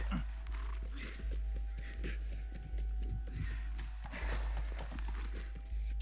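Video game horse hooves clopping in The Last of Us Remastered, a steady galloping rhythm over a heavy low rumble and ambient game sound, with no talk.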